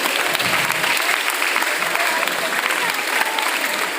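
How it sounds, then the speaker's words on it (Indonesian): Steady, dense applause from a large audience for a respected religious speaker at a talk-show style family gathering, loud and sustained throughout without letting up. "Tepuk tangan buat Ustaz yang terhormat."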